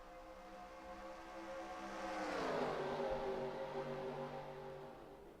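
Race cars in the NASCAR Racing 2003 video game roar past at Talladega during an ARCA Series race, a steady pack engine drone that swells and fades as the field sweeps by, with no talk.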